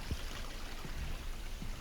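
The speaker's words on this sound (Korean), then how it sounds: "지금도 보시면 물소리가 제법 잘 들리는데" Faint, steady rushing of a small stream flowing beside a countryside house in Yangpyeong, a soft continuous wash of water at a distance.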